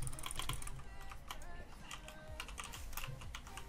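Rapid keyboard typing during a PvP computer game session, with dense, irregular clacking bursts at close range.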